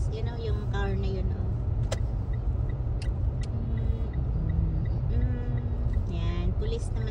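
A police car drives past on a city road, its engine and tyre rumble steady and close through the whole stretch amid dense traffic noise, with talk in the background.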